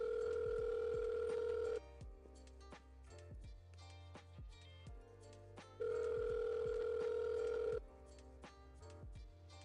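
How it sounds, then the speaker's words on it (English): A telephone ringback tone sounds during an outgoing call, two long tonal rings separated by a pause, faint and heard through a handset over a background of soft ticking and light clicks. "I'm just making some phone calls"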